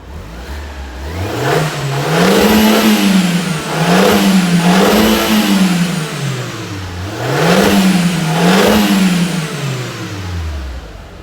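A 1.8-litre turbo Audi A3 (8L) revs repeatedly, its exhaust pitch rising and falling in several loud swells before settling back toward idle, close by with no talking.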